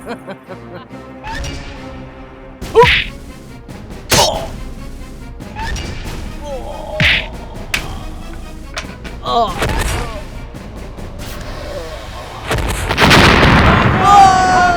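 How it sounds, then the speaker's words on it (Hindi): Sharp bomb blasts and crashing impacts go off one after another in an action movie, with a loud roaring burst near the end and shouting voices between them. "पटाखा नहीं, बम फटा है, बम।"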